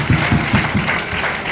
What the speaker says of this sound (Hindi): हमारे क्राउन इन्वेस्टर के लिए एक जोरदार ताली होनी चाहिए।